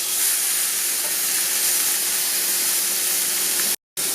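Steak sides sear in a hot pan, a steady loud sizzling hiss that runs unbroken before cutting out abruptly near the end.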